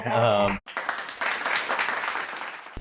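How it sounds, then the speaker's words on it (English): A panel audience on food waste breaks into a final round of applause, a dense wash of clapping that follows a brief spoken moment and runs steadily to the end. "let's give one last round of applause here"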